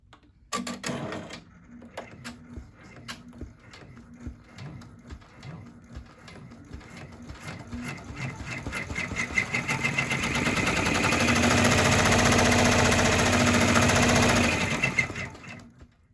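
An embroidery machine stitches a quilted mug rug with a steady, rapid needle chatter that grows louder and denser toward the end before stopping, heard close up with no talking.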